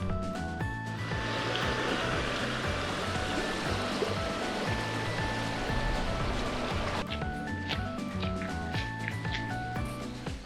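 A river flows beside a shrine near Ise Grand Shrine in Mie, giving a steady, continuous rush of water throughout, with faint tonal sounds drifting over it.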